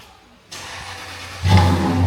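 A Lexus LS400 V8 engine with a new exhaust turns over and settles into a low rumble, then revs up louder with a deep, throaty exhaust note. No voices.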